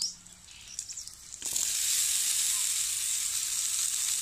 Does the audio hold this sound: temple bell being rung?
no